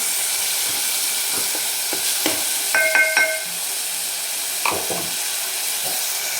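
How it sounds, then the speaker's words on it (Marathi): Spinach frying in oil in a pan sizzles steadily, punctuated by soft stirring taps and a brief bright metallic clink, close and without voices. "आता याच्यामध्ये लगेच आपण पालक भाजी टाकणार आहे पालक भाजी पण दोन मिनिट तेलामध्ये परतून घ्यायची"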